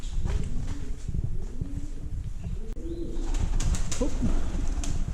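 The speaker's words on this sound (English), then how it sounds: "There's some birds." Several birds coo in low repeated phrases inside a water-carved cave, with a steady rumbling background and faint higher calls layered on top, continuous throughout without talk.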